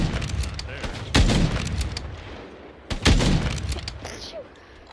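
Gunfire in Call of Duty MWIII during a Search and Destroy match, two loud bursts of shots a couple of seconds apart with echoing tails and a quieter stretch after.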